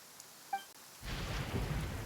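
Thunder and rain in a video game about a ranger: a sudden rumbling thunder roll breaks in halfway, followed by steady heavy rainfall, with a few faint tonal game blips before it.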